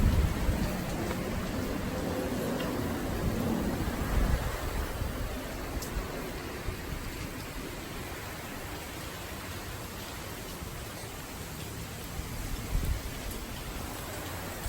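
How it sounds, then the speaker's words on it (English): Heavy rain pours steadily and wind roars in a continuous wash, loud and unbroken, with a few faint low rumbles that may be distant thunder and no voices. "the rain is still going and the wind."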